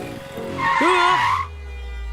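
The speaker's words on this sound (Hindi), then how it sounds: "अरे रुको, गाड़ी आ रही है" A car approaches and its tires skid in a sharp, squealing screech lasting about a second, followed by a low idling rumble.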